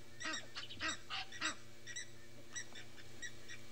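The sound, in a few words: many birds making alarm calls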